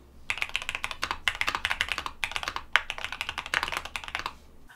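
Rapid, steady typing on a mechanical computer keyboard at a home studio desk, clicky keystrokes in bursts with brief pauses, close and clear, no voices.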